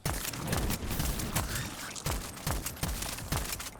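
Voidtrain shotgun fire, a rapid run of punchy, loud blasts in steady rhythm, roughly every half second, with no talking over them.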